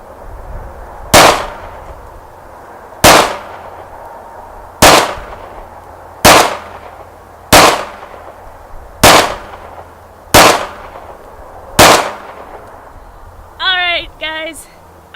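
An FN FNX 9mm pistol fires eight sharp, loud shots at a slow, even pace about one and a half seconds apart, each ringing briefly, then a short clattering, clinking sound at the end.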